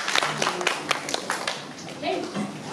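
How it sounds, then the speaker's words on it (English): Classroom audience clapping for a student named Ethan during a school history lesson, a short burst of scattered hand claps that fades out, with a few children's voices mixed in. "let's give Ethan a round of applause"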